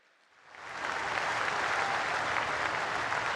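An audience at a tribal assembly in Jhabua, gathered for Prime Minister Narendra Modi, breaks into applause that swells within a second into steady, sustained clapping from a large crowd.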